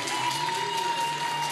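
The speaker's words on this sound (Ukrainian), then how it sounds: "Ваши аплодисменты." Audience applause at a regional girls' princess pageant in Kirovohrad oblast, 2017, steady continuous clapping from a crowd filling the hall after a third-place winner is announced, with a faint sustained tone running underneath.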